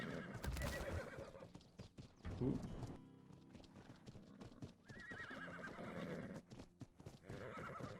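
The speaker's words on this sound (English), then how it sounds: "Should we bring our horses in or leave them out?" Horses in the game ARK whinny loudly at the start and again later, with steady hoof clip-clop running through much of the stretch, and a short exclamation from a voice partway in.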